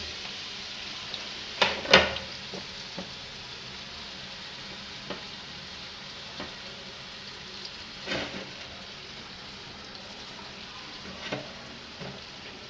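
Onion, garlic, ginger and tinda masala hit hot ghee in a wok, a steady close sizzle with a sharp clatter of stirring early on and a few more soft scrapes later, no talking.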